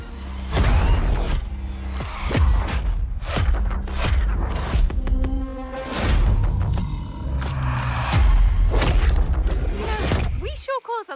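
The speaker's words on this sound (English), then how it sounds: "Sure cause a lot of explosions." Explosions from a trailer for the video game Split Fiction play loudly: a dense series of booms, thuds and crashes layered over music and effects, ending in a brief sweeping tone.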